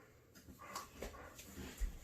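Dogs being washed give soft, faint whimpers and small yelps scattered across a few seconds, with light splashing and handling noises close by.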